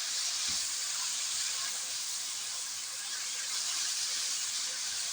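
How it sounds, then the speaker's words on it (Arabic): Onion sautéing in a pan while preparing Egyptian shawarma, a steady broad hiss of frying that holds evenly throughout, close and continuous. "عشان كله ياخد نفس التشويحة بتاعت البصلة"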